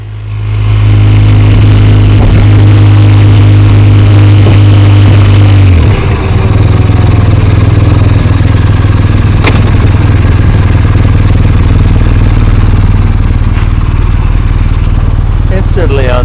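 A sport touring motorcycle engine drones loudly and steadily while riding, with a shift in pitch partway through and wind rumble underneath.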